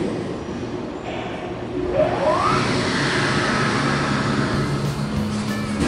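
An elevator motor starts up at the Westchester Pavilion in White Plains, New York, a rising whirring hum that swells after a couple of seconds and settles into a steady loud drone, with no talking over it.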